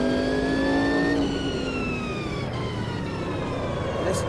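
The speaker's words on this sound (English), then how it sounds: "Listen to that V8 engine." The V8 engine of a Sauber C9 race car at Spa revs hard and then drops away, a loud, close howl of falling pitch that fades into a lower roar.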